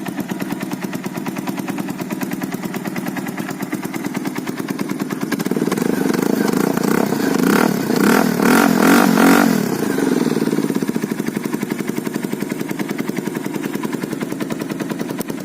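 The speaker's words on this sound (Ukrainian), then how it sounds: "Вихлоп, звісно, трохи деренчить." A Bajaj Pulsar 180cc motorcycle idles close by, then grows louder for several seconds with a loose, metallic rattling in the exhaust before settling back to a steady run.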